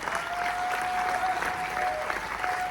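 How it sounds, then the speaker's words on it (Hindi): Applause from an audience at a business recognition event in India, steady and dense throughout, close and loud, with a faint tonal whistle running through the middle of the clapping. "राहुल चंदन सर के लिए जोरदार तालियां जो आपको सपोर्ट करते हैं।"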